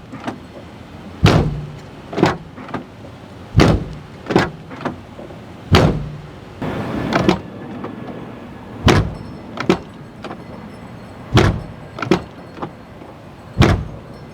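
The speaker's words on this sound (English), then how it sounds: "that's comparing the driver's door to the passenger's door before I did the passenger door." Car doors on a Mazda NC Miata shut one after another, about a dozen sharp solid thuds spaced a second or two apart, close and clear with no talking.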